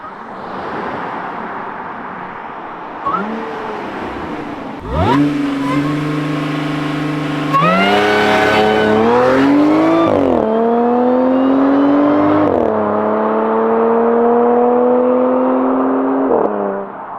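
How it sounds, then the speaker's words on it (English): A supercharged Audi S5 engine revs hard and loud, rising and falling in pitch through several pulls, with a high supercharger whine riding over the roar. "That supercharger is so loud now."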